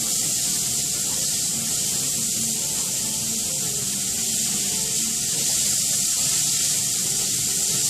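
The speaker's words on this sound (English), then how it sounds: "constantly stir your garlic and onions just because you don't want it to burn" Chopped garlic and onions sizzle steadily in a hot pan for bumblebee stew, with a continuous hiss and soft scraping as they are stirred throughout, no talking.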